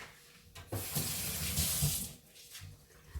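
Hands washed under a running kitchen tap, water gushing and splashing in a short burst of about a second and a half between quieter moments.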